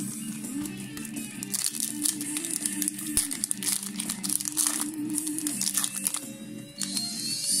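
Foil wrapping of a Yu-Gi-Oh! Cybernetic Horizon booster pack crinkles and tears open in close, bursty rustles, with sharp crackling spikes scattered over several seconds and no talk.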